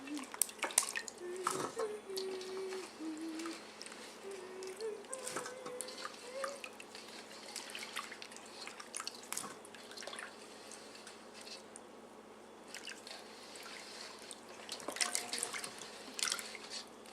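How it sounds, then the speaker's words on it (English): Washed fruit drains in a kitchen strainer while water drips and trickles irregularly, with sporadic small clatters and splashes heard at close range over a quiet room. "Now you always let it drain so no drip over."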